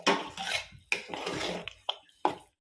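A ladle stirs cooked moong dal with onion and tomato in a pot, giving soft wet scraping broken by several sharp metallic clinks against the pot's side, close by, with no talking.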